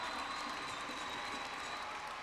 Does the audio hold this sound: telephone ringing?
no